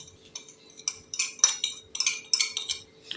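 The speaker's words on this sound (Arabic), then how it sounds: "وهنقلب المواد دي كلها مع بعضها" Flour, starch and spices stirred together in a bowl with a utensil, giving a run of quick scraping, clinking strokes that come in short bursts, close and fairly quiet.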